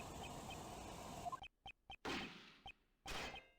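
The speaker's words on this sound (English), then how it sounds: "Gunshots. That was a gunshot." A gunshot sound effect from the Ace Attorney Investigations 2 video game: a few sharp, loud cracks with short silent gaps between them, set against game background sound.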